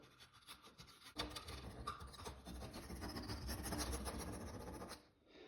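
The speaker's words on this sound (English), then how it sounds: "I'm going to clean those off with a putty knife" A putty knife rasps steadily across laminate, scraping particle board residue off a Formica countertop surface; the close, continuous scraping starts after a quiet second and runs on without talk.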